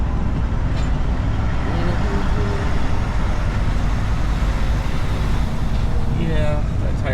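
An oncoming vehicle passes a semi truck on the road, its whoosh partly lost under the loud, steady roar of the truck's own engine and road noise.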